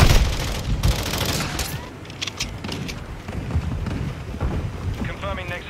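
Heavy mortar and gunfire explosions in a Call of Duty match, dense booming and crackling bursts layered over one another with rumbling low impacts, loud and continuous, with faint electronic tones near the end.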